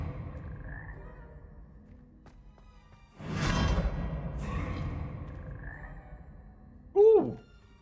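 A frog in the Hogwarts Legacy video game croaks clearly near the end, following a quiet lull and a whooshing magical swell. Faint game ambience continues underneath, and no one speaks.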